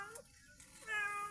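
Domestic cat at a rural home in Northern Mindanao giving a single short meow, near and fairly clear, with a faint voice just before it.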